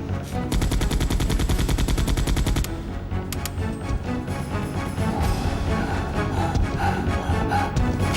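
Rapid automatic gunfire in the video game Resident Evil 2, loud and dense bursts at first, then continued shots and explosive booms against a busy game soundtrack.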